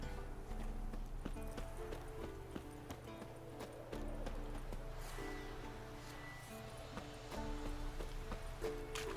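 Roach, the horse in The Witcher 3, clip-clops along with steady rhythmic hoof beats over a low ambient drone and soft musical tones, fairly close and moderately loud.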